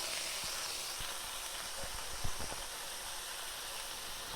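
Frozen stir-fry vegetables sizzle in hot oil in a pan, a steady loud hiss with faint crackles and one brief pop near the middle, with no talking.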